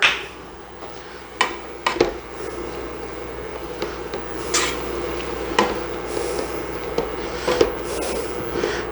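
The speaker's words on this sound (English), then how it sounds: "we're just sauteing this for about 5 minutes" Beef and peas sauteing in a pan, a steady low sizzle with occasional clinks and scrapes of a utensil stirring against the pan, close and continuous with no talking.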